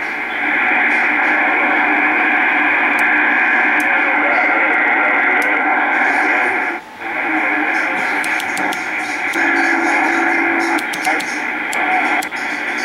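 Single sideband signal received on a Pace 1000-B 23-channel CB base station, a steady band of distorted, garbled transmission with hiss that runs continuously, dipping briefly once, loud and close throughout.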